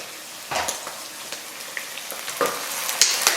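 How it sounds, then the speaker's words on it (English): Soy sauce hits caramelizing sweet chili chicken in a hot pan, setting off a close, continuous sizzle with bursts of crackling and stirring that flare up several times, with no voices. "We're going to put a little soy sauce in there, and that adds salt"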